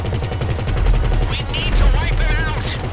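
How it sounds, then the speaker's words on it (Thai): Rapid automatic gunfire from the video game GTA V rattles in steady, dense bursts throughout, with voices talking over the shooting in the second half. "คุณเล่นยิงกราดนะ"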